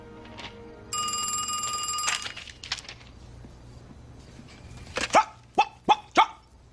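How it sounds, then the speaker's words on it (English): A dog barks four times in a quick run, sharp and fairly close, after a telephone rings steadily near the start; no one speaks. "Yes, ma'am, that's my dog."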